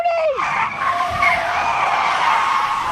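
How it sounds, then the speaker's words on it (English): A car skids hard in a crash scene from The Sopranos, a loud tire squeal that sweeps down, then a rough grinding screech that carries on alone. "and then this fucking car accident"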